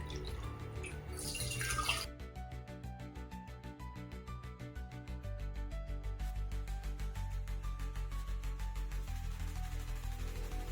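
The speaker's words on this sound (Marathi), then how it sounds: "4 वाटी पाणी घ्यायचं आहे आणि ते उकळायला ठेवायचं आहे" Water runs steadily from a tap into a pot, a continuous close splashing stream with a brief hissy burst at the start.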